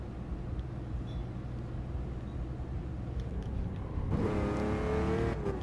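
Bugatti Veyron, LaFerrari, Pagani Huayra and Lamborghini Veneno in a drag race: a steady engine drone with a louder, rising roar of acceleration near the end, with no talking.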